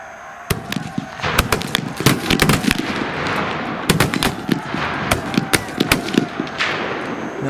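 Independent rifle fire from Minie rifles at an outdoor shoot: sharp, loud reports crack out irregularly, some alone and some in quick clusters, with a steady background rumble between shots.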